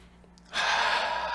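Single deep breath, a sudden loud airy inhale or exhale that starts abruptly and holds steadily for nearly a second, close and alone.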